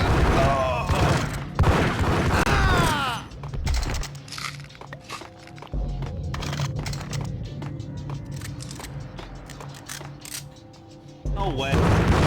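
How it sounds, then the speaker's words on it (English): Shotguns blast in the Max Payne video game, with heavy booming shots and crunching impacts, loudest early on, then a tense stretch of sparse hits and background tones before another burst at the end, under a voice talking. "Jesus, the freaking shotguns."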